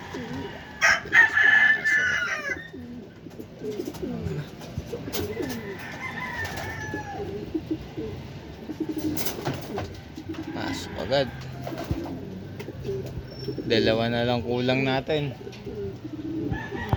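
Racing pigeons arriving home during a club training release in Tarlac City, with bird calls and flapping scattered over a steady outdoor background, and people talking throughout.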